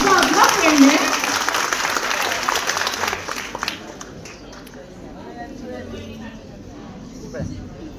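An audience at a school farewell party claps loudly in a burst that fades after a few seconds into quieter room noise with faint crowd murmur.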